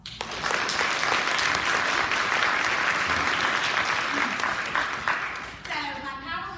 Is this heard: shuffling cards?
no